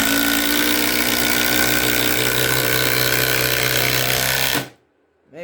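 A Ridgid sub-compact impact driver sinks a 5/16 inch, 3.5 inch long lag screw with a loud, continuous rapid hammering rattle that runs steadily for several seconds, then cuts off abruptly into near silence.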